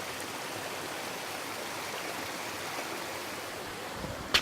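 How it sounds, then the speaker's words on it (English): Steady rushing of creek water flowing over rocks in a mountain bush setting, a constant broadband wash close by with no voices, ending in a brief knock. "Alright, well, I'm down here at the creek, and it's a very nice creek."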